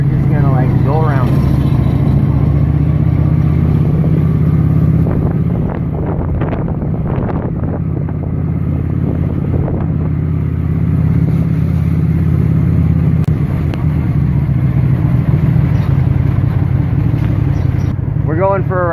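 A scooter rides through French Quarter traffic in New Orleans, with steady engine hum and heavy wind buffeting the microphone under intermittent talking.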